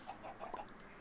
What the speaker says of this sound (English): Oh, I'm carrying an Ardite chicken in there.